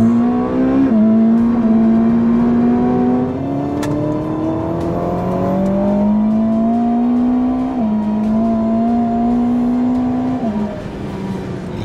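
A Ferrari SF90 Stradale plug-in hybrid supercar accelerates hard and loud, its engine tone climbing in pitch through several gear changes with brief dips between each rising pull.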